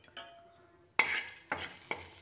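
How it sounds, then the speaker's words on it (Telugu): Cashews and onions frying in a pan with a spoon stirring, a few sharp scraping strokes in quick succession over a quiet sizzle, close; no talking. "జీడిపప్పు కూడా ఫ్రై చేసేస్తున్నాను అన్నమాట."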